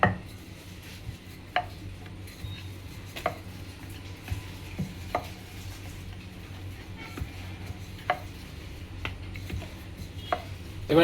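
Fish kochuri dough rolled out with a rolling pin in a home kitchen, giving soft, sparse knocks and light taps roughly every second over a low steady background hum, with no talking.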